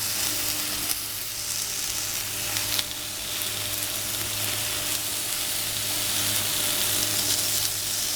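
Marinated boneless chicken breast sizzles steadily on a grill, a continuous close hiss of frying with faint crackles throughout and no talking.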